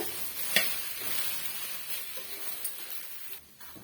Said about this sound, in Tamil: இடையிடையே இந்த மாதிரி வந்து மிக்ஸ் பண்ணி கொடுங்க அப்பதான் வந்து எல்லா சைடும் காய் வந்து நல்லா வறுபட்டு வரும்